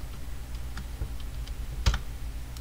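A few sparse keystrokes on a computer keyboard while entering a timecode in Premiere editing software, soft isolated clicks with one sharper press near the end, close and fairly quiet.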